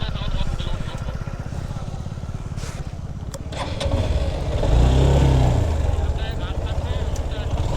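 Motorcycle engine pulling up a steep hill road, a steady chugging throb that swells as the throttle is held open, with voices talking over it.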